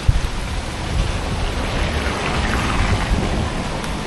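A heavy rainstorm in West Virginia: dense, steady downpour roaring close by, with low rumbling thunder underneath throughout.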